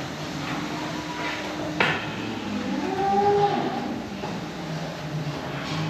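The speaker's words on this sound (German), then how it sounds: "Zwei Kühe noch." Cattle in a farm stall give a drawn-out moo midway, fairly close, over steady barn background noise, with a brief clank from a gate or grille just before.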